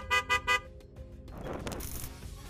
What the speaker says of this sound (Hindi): जोर जोर से चिंघाड़ते हुए हॉर्न बजाना,